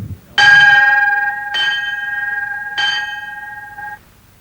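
Bell rung by a candidate quitting US Navy SEAL training, three loud ringing strikes about a second apart, each leaving a sustained metallic tone that decays between hits, heard alone without talk.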